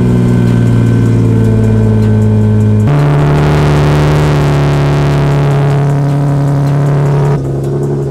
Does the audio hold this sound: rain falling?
no